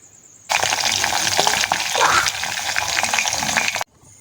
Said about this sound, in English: Then fry your fish to a browner and crispy level